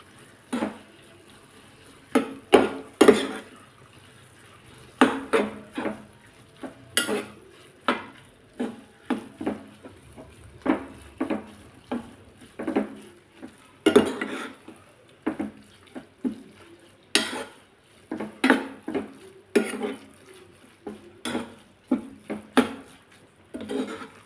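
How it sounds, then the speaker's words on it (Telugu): Totakora (amaranth greens) fry being mixed in a pot after spices go in, with a series of close, irregular scraping and clinking strokes of a spoon against the vessel, alone without talk. "ఇప్పుడు దీన్ని బాగా కలుపుకోవాలండి"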